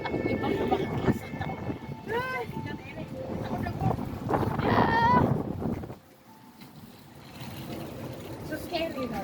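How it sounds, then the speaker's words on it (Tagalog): Strong wind buffets the microphone at the top of the Eiffel Tower replica in Macau, a loud gusty roar that drops away briefly, with excited voices talking and exclaiming throughout. "Grabe, tinutulak ka ng hangin."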